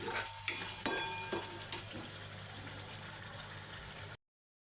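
Tamarind pulp mixed with sesame powder simmers and sizzles in oil for Iyengar pulihora, a soft steady crackle near the pan with a few sharp spoon clinks early on, then cutting off abruptly.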